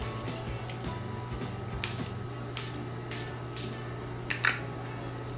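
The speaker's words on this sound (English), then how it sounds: "So I'm gonna be using this Milani Make It Last Setting Spray." Several short hissing bursts of Milani Make It Last makeup setting spray, close by, scattered over a steady low hum with a brief clatter near the end.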